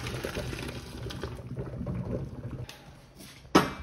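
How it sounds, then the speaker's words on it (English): Cooked pasta tipped into a strainer in a home kitchen, water pouring and splashing in a steady broadband rush for a few seconds, easing off before a sharp clatter near the end. "Okay, now we are going to drain our pasta."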